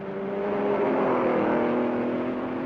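A 1960 Belgian Grand Prix racing car drones past with a steady, fairly loud engine whine that swells slightly and then fades, with no voices.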